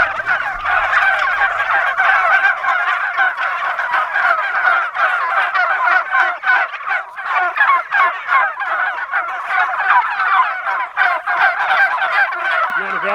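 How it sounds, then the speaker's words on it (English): A flock of turkeys gobbling in a pasture, loud overlapping gobbles repeating in rapid bursts nearly nonstop, close by and without talk. "You hear that? Those are turkeys."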